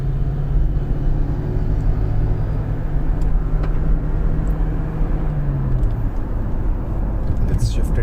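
A third-generation Toyota Prius driving in power mode, its steady low engine and road rumble continuous and close throughout, with a voice talking over it.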